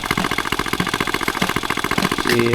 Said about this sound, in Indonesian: Motornya motor Honda tua